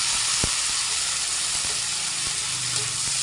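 Tomatoes sautéing with garlic and onion in a pan, a steady close sizzle and hiss running throughout with a few small clicks and stirring knocks.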